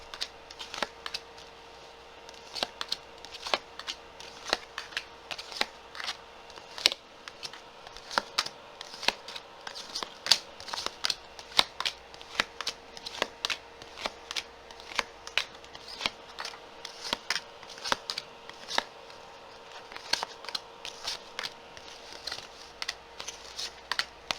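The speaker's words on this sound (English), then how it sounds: "Okay, finally we are done with the shuffle. Let's put down the cards." Tarot cards shuffled and laid down, a steady run of crisp, close card flicks and snaps repeating quickly at low volume, with no talking.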